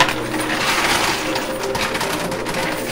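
Coins and poker chips tumble in a high-limit coin pusher arcade machine, making a dense, continuous, loud metallic clatter and jingle from start to finish, with no voices.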